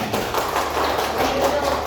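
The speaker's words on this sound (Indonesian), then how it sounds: "Tepuk tangan untuk Ozil." A classroom of students clapping for a classmate, a busy continuous patter of small hands throughout, with some chatter under it.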